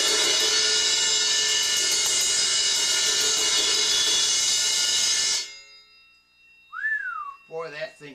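A loud, bright cymbal crash rings with a long shimmering sustain for several seconds, then cuts off, followed by brief rising vocal sounds.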